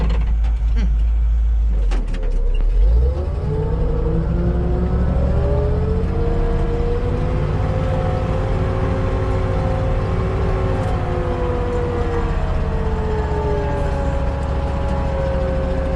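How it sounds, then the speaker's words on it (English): An old truck with worn brakes drives along pulling a planter, its engine droning steadily and shifting pitch as it accelerates, loud and close with no voices. "it feels a little squirrely, but it's an old truck"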